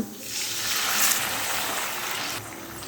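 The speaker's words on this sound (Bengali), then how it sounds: "এবারে গ্যাসের ফ্লেমটা বাড়িয়ে দিয়ে এর মধ্যে দিয়ে দিচ্ছি আমি 3 বাটি জল।" Three bowls of water poured steadily into a hot pan of fried gobindobhog rice over a raised gas flame, a continuous rushing splash lasting a few seconds.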